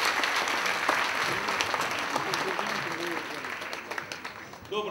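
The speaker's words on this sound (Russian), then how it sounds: "Аплодисменты!" A student audience at a Moscow theatre evening for Tatiana Day applauds steadily throughout, a dense even clapping with crowd murmur mixed in.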